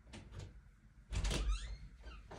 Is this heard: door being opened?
yes